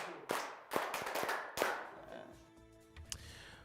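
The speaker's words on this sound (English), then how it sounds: "Let's clap for ourselves." Scattered hand claps from a small group in a news studio, a few loud sharp claps at first that thin out into lighter, sparse taps with faint voices underneath.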